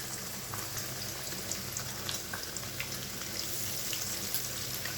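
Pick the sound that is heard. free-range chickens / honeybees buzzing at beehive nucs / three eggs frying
three eggs frying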